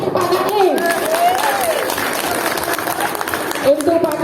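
Applause for Pak Kaling at a parish women's fellowship birthday celebration, a steady patter of clapping heard close and loud, with a voice talking over it at the start and again near the end.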